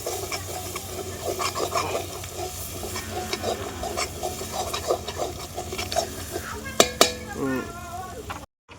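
Prawns frying in boiling oil for a Tamil prawn gravy, a steady close sizzle with stirring and a couple of sharp utensil clinks near the end.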